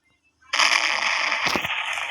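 A bomb goes off in a first-person shooter game at a train station. A sudden loud burst of explosion noise holds for over a second and a half, with a sharper crack partway through.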